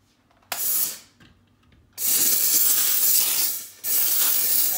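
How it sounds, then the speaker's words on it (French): A Vapodil steam cleaner blasts steam directly onto a ventilation unit. A short loud hiss, a pause with faint clicks, then a long steady jet, a brief break and another burst, all close with no talking. "je vais actionner la vapeur en direct dessus"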